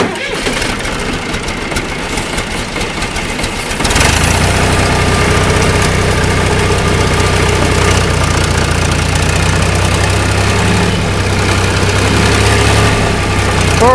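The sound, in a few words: John Deere 2240 tractor engine running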